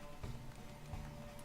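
Horse hooves clip-clopping at a steady gait in The Witcher 3: Wild Hunt, a rhythmic run of soft thuds over low music and game ambience, with no talk.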